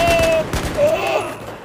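Rapid gunfire bursts in the shooter Battlefield 4, several sharp cracks in quick succession amid game noise, fairly loud and close.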